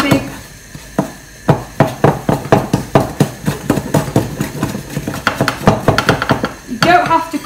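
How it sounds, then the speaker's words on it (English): A utensil clatters rhythmically against a bowl as cake batter with orange zest is mixed for mini white chocolate and orange cakes, producing steady loud repeated knocks with no talk. "you want to simply mix it so your orange zest is mix in"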